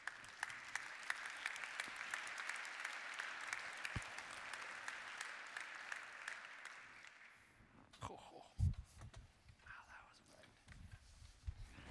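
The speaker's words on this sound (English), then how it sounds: "So please give them a round of applause as well." A conference keynote audience applauds panel guests as they come up, with steady clapping spread through the room for several seconds before it fades into footsteps and quiet movement.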